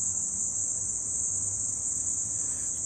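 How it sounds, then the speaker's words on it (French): A cricket chirps steadily in a continuous high trill, loud and close, running unbroken over a faint low background rumble with no speech. "regardons l'envol du grillon"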